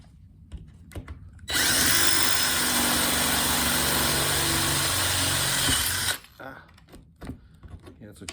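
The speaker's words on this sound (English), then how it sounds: "I'm holding it tight, get a nice sharp drill." Power drill boring through a cigar box guitar body, a loud steady whine holding for about four and a half seconds, framed by quieter handling noises and brief talk before and after.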